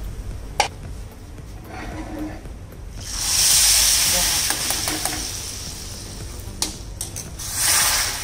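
Hot tadka of asafoetida and sambar masala poured into sambar, a loud broad sizzle bursting up midway and hissing on, with a second flare near the end and a few sharp clinks of a utensil.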